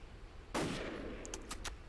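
A sniper rifle shot cracks loudly in the PC game Jonathan Kane: The Protector (2009), one sharp blast with a short decaying tail, followed by a few quicker, fainter gunfire pops.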